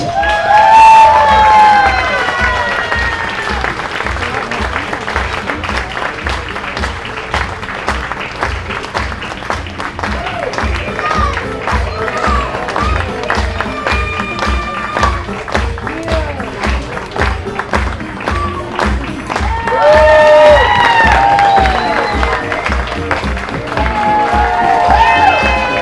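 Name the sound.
audience applause and cheering after a fencing skit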